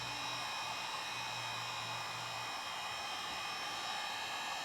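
A heat gun blows hot air steadily on a 2020 Toyota Tacoma during a tire-rubbing fix, a constant close whooshing roar with a faint low hum underneath.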